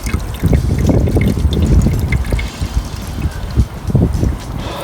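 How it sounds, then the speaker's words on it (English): Water flushes through a '63 Mercury radiator with a 390 FE engine, gushing and spattering in uneven bursts close by, with no talking. "I'm just going to flush the whole thing, and we can take a look at some of that rust coming out."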